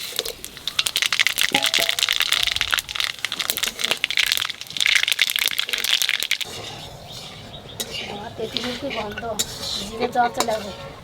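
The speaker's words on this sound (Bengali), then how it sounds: "তেলের পর দিয়ে দেবো শুকনো লঙ্কার তেজপাতা আর পাঁচ ফোড়ন আর দেবো কটা সর্ষে" Dry chilies, bay leaf, panch phoron and mustard seeds crackle and sizzle in hot oil for a Birbhum-style sour fish curry, a steady dense hiss with sharp pops, joined later by utensil clatter and stirring.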